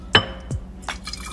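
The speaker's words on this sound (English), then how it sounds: "I'm gonna put a little water in each one" Water poured into bottles being readied for kombucha, a brief splash and dribble followed by a couple of light drips and a faint glassy clink, close and fairly quiet, with no talk.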